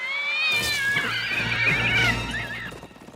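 Cartoon horses neigh and whinny loudly in an animated pony series, high shrill calls rising and falling for about two seconds with faint hoof clatter underneath, no talking.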